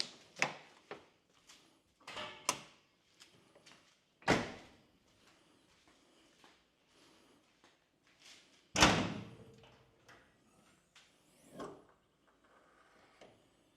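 A 1st gen Toyota 4Runner bonnet fitted with a gas strut kit, opening with a series of sharp clunks and thuds, including one loud bang midway, between quieter stretches.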